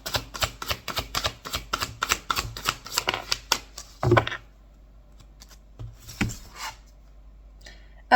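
Intuitive oracle cards shuffled by hand in a fast run of crisp riffling flicks for about four seconds, then a few scattered soft card taps and slides with quiet gaps between.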